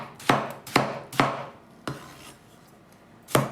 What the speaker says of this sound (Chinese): 我们再把它切成长条